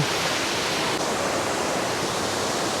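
Phlio Waterfall in Chanthaburi roars as a steady, loud, close wash of falling water, with no pauses and no voices.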